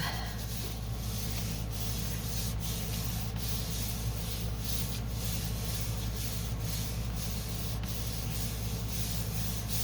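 A hand rubs steadily across a sheet of paper laid on a gelli plate, making a continuous close, dry scraping hiss with faint repeated strokes throughout.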